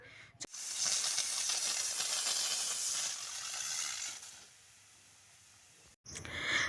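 A pressure cooker loaded with eggs, potatoes and dal hisses steam loudly for several seconds, the jet weakening into a softer hiss before a brief pause and a fresh burst.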